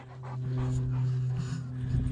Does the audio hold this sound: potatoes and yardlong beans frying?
no